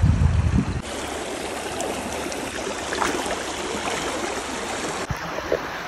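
Shallow water of the Kabani river flows over its bed in a steady, close, continuous rush and trickle, with a brief louder low-frequency burst at the start, heard alone.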